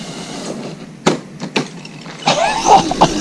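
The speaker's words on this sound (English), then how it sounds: "Full throttle on the grass there, Rich." A brushless RedCat Gen7 Pro RC car with a 3500kv motor runs at full throttle on grass, giving a rising whine with a couple of sharp bursts and a rougher, louder surge near the end.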